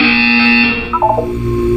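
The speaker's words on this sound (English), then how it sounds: "You will hear a buzzer. When you hear the buzzer, look up at the ceiling." A harsh electronic buzzer in the video game Portal 2 sounds loudly for under a second, followed by a short series of quick beeping tones.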